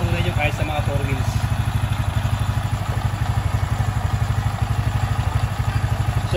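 Motorcycle engine idling with a steady, rapid thumping pulse, close and continuous throughout, heard while the bike's battery is being tested.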